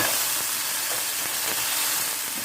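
Frozen Thai pork fried rice hisses and sizzles steadily in a hot pan, a constant bright crackle with no pauses and no one talking.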